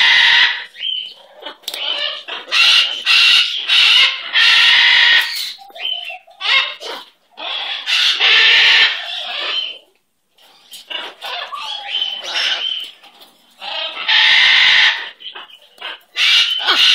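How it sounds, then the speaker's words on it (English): A pet bird squawks loudly and close in repeated harsh bursts with short chirps between them, while someone speaks softly nearby. "My little beautiful bird."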